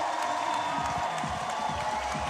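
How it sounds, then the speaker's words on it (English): Crowd at a beach volleyball final between Canada and Germany at the Beach Pro Tour in Montreal, a steady wash of cheering and scattered clapping from the stands, moderately loud and continuous throughout. "Crowd trying to provide a little energy boost for their squad"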